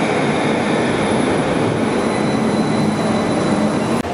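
A loud, steady rumble of a Barcelona metro train in motion, broadband and continuous, with a faint high whine running through it.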